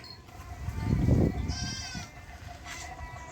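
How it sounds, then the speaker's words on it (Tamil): Goats, including two young kids, bleat in a rural village in the morning: a few short, wavering calls, close and fairly loud, over a low background rumble. "இங்கே இருக்கு 2 குட்டி ஆடு."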